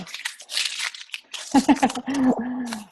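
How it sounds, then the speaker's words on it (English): Paper slips are crumpled by hand for a prize draw, producing a short run of crisp crinkling up close, followed by a person talking. "I'm going to crumple them up and pick one"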